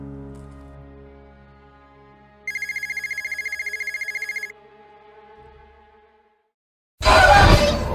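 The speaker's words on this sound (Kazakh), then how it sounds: "мен телефоныма хабарламалардың дауысы шыға бастады" In a horror animation, a phone sounds a notification in a dark hallway: a bright electronic trill rings for about two seconds over a low, quiet drone, and a sudden loud crashing burst follows near the end.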